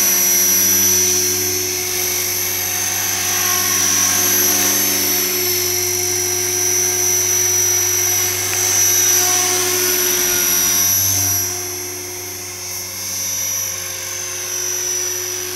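An Align T-Rex 470LP radio-controlled helicopter flying, a steady high whine of motor and rotor with strong tonal hum, loud and continuous, swelling and easing slightly as it moves.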